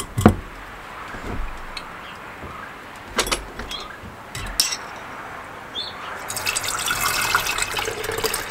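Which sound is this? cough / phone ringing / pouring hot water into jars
pouring hot water into jars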